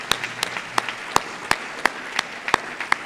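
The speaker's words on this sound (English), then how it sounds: "Can we have another round of applause for all of the amazing awardees?" Scattered applause from an audience at a philanthropy awards event honoring awardees: sparse individual claps, roughly three per second, moderately close in a room, with no talking.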